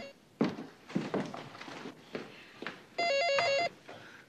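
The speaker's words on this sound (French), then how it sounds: "Le téléphone, oh! Vous n'entendez pas?" A telephone rings with one loud electronic trilling burst that warbles rapidly for under a second, following several dull thumps and footsteps nearby in a room.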